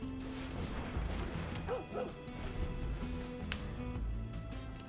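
Dog in the video game MTG Arena giving two quick, short barks close together near the middle, fairly faint over a constant busy game background.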